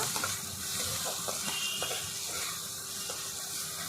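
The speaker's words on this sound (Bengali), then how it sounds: "মশলার ভিতরে ভালো করে এবার কষিয়ে নেব" Spices with turmeric and salt sizzle in a pan as a potato and chickpea curry is sautéed, giving a steady frying hiss with occasional soft scraping stirs throughout.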